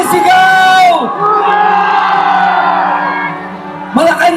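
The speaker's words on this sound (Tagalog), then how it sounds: "pakinggan niyo ang sigaw ng sambayanang Pilipino. Sabay-sabay, sumisigaw!" A large crowd at a Filipino protest rally shouts together in one loud, sustained roar lasting several seconds, close and strong, with a speaker's amplified voice briefly heard before and after.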